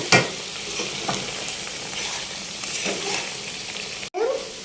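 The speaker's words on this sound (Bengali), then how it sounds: "করলা ভাজি করে দিচ্ছি" Bitter gourd and potato frying in a pan, a steady close sizzle with occasional stirring scrapes, then a brief sharp break near the end.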